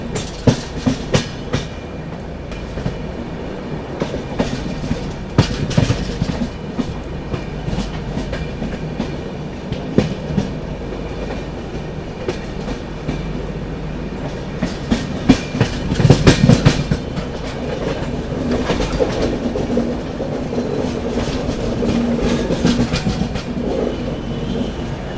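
The Gatiman Express high-speed train rolls into Agra Cantt, its rumble and steady clickety-clack loud and continuous, with a heavier burst of wheel and rail noise midway.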